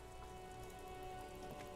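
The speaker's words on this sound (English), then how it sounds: "All around you, rain falls on the great city of Revachol." Steady, soft rain falling in a rainy city in the Disco Elysium video game, a continuous hiss with faint drips and a low hum beneath, no voices.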